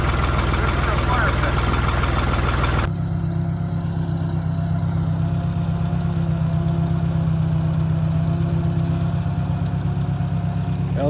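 Gas engine of a Wood-Mizer LT40HD sawmill, 24 horsepower, running with a loud, steady droning hum that drops to a lower, even idle after a few seconds.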